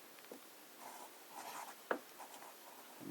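A fountain pen writes on paper in Diamine Oxblood ink, making quiet, close scratchy strokes in short irregular bursts, with one sharper tap midway and no talk.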